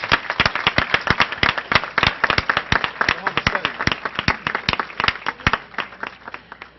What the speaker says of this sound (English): I think we should give them one more round of applause.